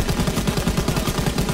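Rapid automatic gunfire in the Call of Duty WW2 video game rattles in a loud, continuous burst of tightly spaced shots.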